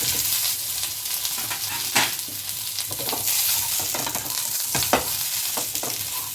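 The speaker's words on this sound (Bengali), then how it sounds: "ভালো করে নাড়াচাড়া করে আমি এগুলো দিয়ে দেব।" Ingredients with curry leaves fry in a pan for masala idli, giving a continuous close sizzle broken by a few sharper scrapes as they are stirred, with no talking.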